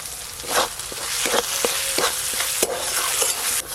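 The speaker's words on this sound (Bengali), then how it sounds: "গরম তেলে মশলাগুলো হালকা করে নেড়ে নিয়েছি। এবার টমেটো কুচি দেব, লবণ, চিনি," Chopped tomato with salt, sugar and spices frying in hot oil over a clay stove, a steady loud sizzle broken by several sharp scraping stirs of the spoon against the pan.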